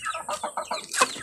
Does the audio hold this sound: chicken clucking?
yes